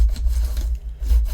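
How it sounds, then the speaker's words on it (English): Layers of a folded display card pressed together by hand, giving a brief, close, soft scraping rub of paper against paper, repeated in two short strokes. "just give that a rub"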